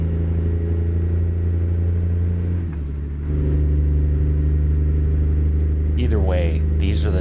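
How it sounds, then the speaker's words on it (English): A heavy truck in American Truck Simulator runs a loud, steady low drone with strong harmonics, like a Jake brake engine braking through 8-inch stacks. It dips briefly near the middle and then resumes at full strength. "these are the type of Jake brakes or that sound, right? That cause cities to put up those signs that say engine brake"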